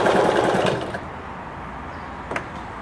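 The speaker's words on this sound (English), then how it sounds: "So, ran it at high speed. It's not missing any stitches." A Kenmore 14 sewing machine stitching at high speed gives a fast whirring, chattering run for about a second, then stops, leaving quiet room tone and a short clunk near the end.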